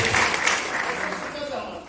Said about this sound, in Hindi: So big hand of applause for sir.